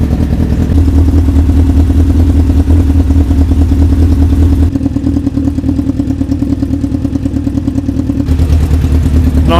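Honda Fireblade motorcycle engine running in a garage, a loud close steady mechanical drone with clattery texture that holds at a fairly even speed throughout rather than rising in clear revs.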